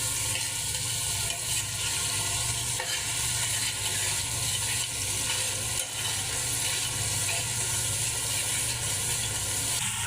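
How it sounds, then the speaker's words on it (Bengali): A spice masala mixed with sour yogurt is stirred in a frying pan, giving a loud, constant close sizzle with faint scraping under it and no voices. "এখন মশলাটা আবার একটু নেড়ে নিব"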